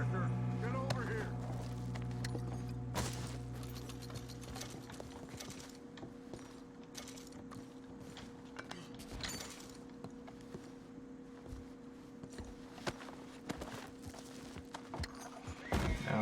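Horse hooves clip-clop in Red Dead Redemption 2 amid a mountain camp scene, with scattered irregular hoof clops under a low game hum, a horse snort and character voices talking over them.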